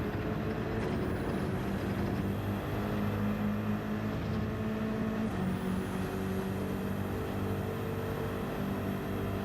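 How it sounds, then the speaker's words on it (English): A Subaru race car in Gran Turismo 7, racing at Watkins Glen, drones with a steady, loud engine tone that holds throughout, with two brief rising whines layered over the constant roar. "I can hear someone's in a Subaru."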